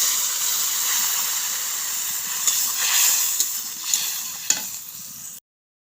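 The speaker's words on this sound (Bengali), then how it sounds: "আলু ও পটল 2-3 মিনিট ভাজার পর ওতে জল দিয়ে দেব" Hot water poured into a pan of potatoes and pointed gourd frying in oil, giving a steady loud sizzle and hiss with a few clattering stirs and clinks, ending abruptly in silence.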